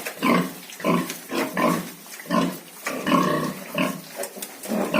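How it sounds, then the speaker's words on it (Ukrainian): Piglets grunting and squealing in repeated short bursts, close by, with no talking. "Класні довгенькі поросятка."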